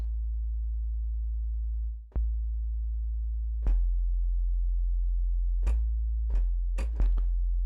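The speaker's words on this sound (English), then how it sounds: "I really just need a sine wave" A deep sine wave synth tone in Bitwig drones steadily and loudly, broken by a brief dip and a few sharp clicks and blips near the end.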